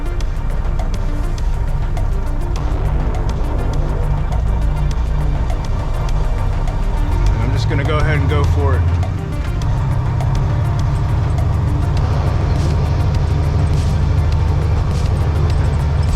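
A 13-speed truck engine rumbles low and steady while the truck drives near railroad tracks, the drone continuous and close, with a brief swell midway; someone speaks briefly over it.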